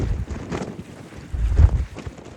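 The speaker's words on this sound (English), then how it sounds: "If you can hear the wind." Wind buffets the microphone on the deck of the Fred Olsen cruise ship Bolette at sea in a slight swell, giving low rumbling gusts that rise and fall without talk.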